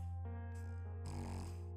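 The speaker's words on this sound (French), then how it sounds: "tu ronfles" A person snoring nearby, slow raspy breaths with a low rumbling buzz, two rising snore swells over a steady low hum, no talking.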